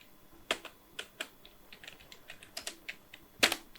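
Keys clatter on a computer keyboard while a file name is typed, a run of about a dozen quick, quiet clicks in an irregular rhythm ending with one louder keystroke, close and alone.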